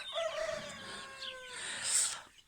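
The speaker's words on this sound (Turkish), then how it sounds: "Bunlar böyle civcivlerimiz." Chickens and growing chicks cluck and a rooster gives a short crow nearby in a garden, with a few high chirps near the end; quiet, no talking.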